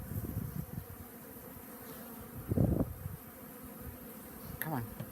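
Honey bees from Saskatraz packages buzz around a hive during installation, a continuous faint drone with a few louder swells as bees pass close by.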